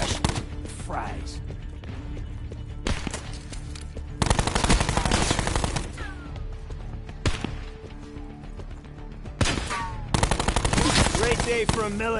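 Rapid machine-gun bursts and single shots from a shooter video game on PS4, loud and close, coming in clusters with pauses between them while a voice talks over parts of the action.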